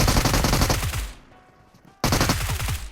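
Rapid bursts of gunfire crackle loudly during a fight in the video game PUBG, one rattling volley breaking off into near silence before a second burst abruptly resumes.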